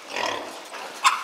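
Piglets being raised for fattening grunt and squeal briefly in a pen, a few close, mid-loud calls with a sharper squeal near the end.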